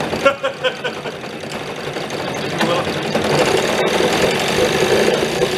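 An old outboard engine on a small abandoned 7-foot boat runs steadily, a continuous rough mechanical drone that builds slightly louder and denser after a few seconds, with brief voices faintly underneath.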